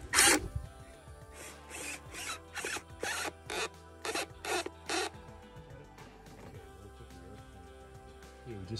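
A screw on the air cleaner boot of a Toyota Prius is tightened up close, giving about eight short, evenly spaced rasping ratchet bursts, then a quiet stretch of faint handling noise.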